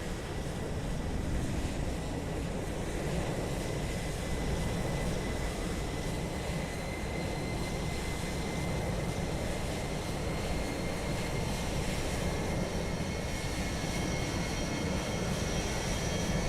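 Jet engines of a UPS cargo plane in Microsoft Flight Simulator 2020 at Dublin Airport, a steady loud roar with a high whine, continuous throughout.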